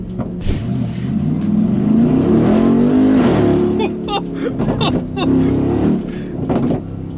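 A 920 hp Mercedes G-Class engine pulls hard under acceleration with a loud, rising roar heard from inside the cabin, followed by throttle bursts and shifts, while someone talks over part of it.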